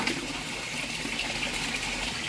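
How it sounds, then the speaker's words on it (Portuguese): Water rushes forcefully into a tank inside a greenhouse, a loud continuous gushing with steady turbulent hiss, close and without talk. "Se tá descendo com força assim, é porque tá indo muita água lá pra dentro."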